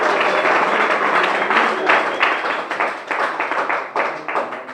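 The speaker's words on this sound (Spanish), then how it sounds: "Dele ese aplauso a Dios." Church congregation clapping during a Spanish-language sermon, a dense, steady burst of applause that carries on for several seconds and eases off into scattered claps near the end.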